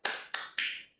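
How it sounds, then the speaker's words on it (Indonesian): A classroom group performs a rhythmic spirit clap during a micro-teaching lesson, three quick bursts of clapping in a short pattern, the last one drawn out slightly longer, quiet with no talk. "Tepuk semangat."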